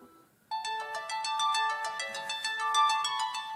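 A smartwatch phone's ringtone, set off by the S28 watch's find-phone feature, plays a bright repeating melodic tune that starts abruptly after a brief quiet and rings on steadily and clearly.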